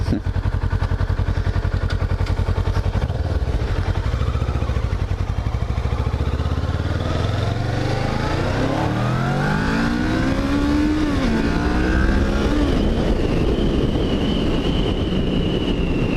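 A motorcycle engine runs and revs up steadily, loud and close, with rising and falling pitch sweeps as it climbs through the revs, alone without talk.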